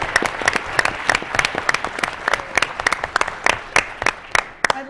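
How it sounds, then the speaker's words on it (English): Applause for the teams at an It's Academic high school quiz competition, a modest group of hands clapping in crisp, distinct claps that thin out toward the end. "Let's give everybody a round of applause."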